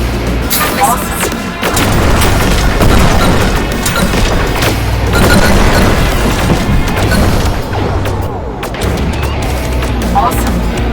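Missiles launching and detonating in the space shooter Rogue Flight, a loud, relentless barrage of whooshing launches, crashes and booming explosions layered over an intense game soundtrack with no pauses.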